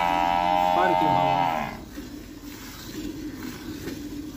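A buffalo moos during hand milking into a bucket on a dairy farm. One loud, long, close bellow lasts over a second, then fades into low ambient farm noise.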